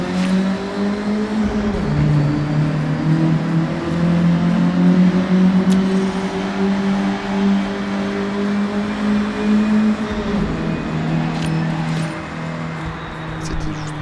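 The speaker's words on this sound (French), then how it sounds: "mais écoutez-moi ce moteur" A Forza Horizon 6 video-game car engine drones and revs steadily, its pitch rising and dipping in long sweeps, loud and continuous throughout.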